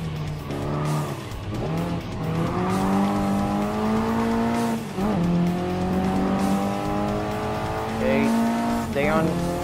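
Race cars in Gran Turismo Sport, including a Ferrari, a BMW and a KTM, run GT1-style race laps. Engine tones rise and fall steadily and stay loud and close throughout, with sharp shifts between gears.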